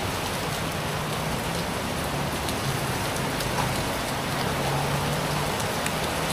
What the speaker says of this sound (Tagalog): Ang agang ulan.